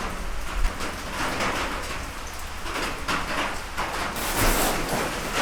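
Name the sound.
rain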